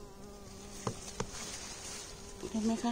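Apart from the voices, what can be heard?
bee buzzing around peony flowers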